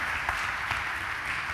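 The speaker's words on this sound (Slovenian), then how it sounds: "pa še za en aplavz za prvega dobitnika priznanja" An audience at an institute's 75th anniversary ceremony claps for the first winner of a young researchers' award, a steady, fairly faint wash of applause from a hall crowd, brief and unbroken.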